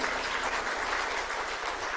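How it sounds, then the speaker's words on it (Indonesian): Steady, dense applause from an audience at an Indonesian ministerial speech event, continuous and moderately distant throughout with no talk over it. "Tepuk tangan untuk beliau sekali lagi."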